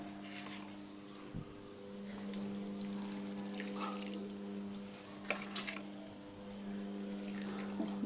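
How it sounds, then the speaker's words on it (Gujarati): A washing machine fills with water: a faint, continuous rush of flowing water runs under a steady low machine hum, with a few soft knocks and splashes and no voices. "આપણે વોશિંગ મશીન ચાલુ કરી દીધું છે, પાણી લેવાનું ચાલુ થઈ ગયું"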